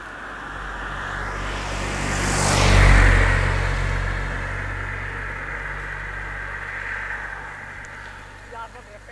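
A cart in a village bicycle and cart rally races past close by, its rushing noise swelling to a peak and then fading away, with a crowd and voices talking and shouting over it.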